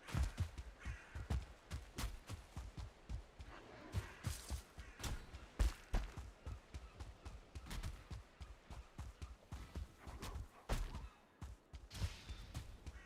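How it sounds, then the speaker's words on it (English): Crows cawing in the game Valheim, mixed with a rapid run of dull thumping steps and impacts; the caws are faint and scattered behind the steady footfalls, with no talking. "Because we could hear the crows."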